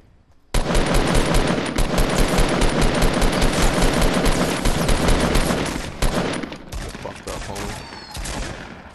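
A sudden loud volley of rapid automatic gunfire in a video game starts abruptly and rattles on continuously for several seconds, then thins into scattered shots and muffled thumps toward the end.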